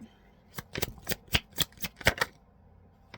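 Playing cards being shuffled in a series of sharp riffling bursts, about ten quick crisp ruffles spread over a few seconds, close and fairly loud with quieter handling noise between them.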